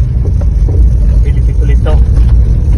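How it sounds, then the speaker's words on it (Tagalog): A car engine pulls uphill in second gear, a loud, steady low rumble running throughout with voices talking over it. "Nag-shift na tayo sa second gear kasi masyadong mabagal na yung low gear."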